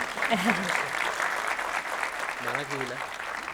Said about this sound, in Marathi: कंजूस लोक जरा टाळ्या जोरदार द्या.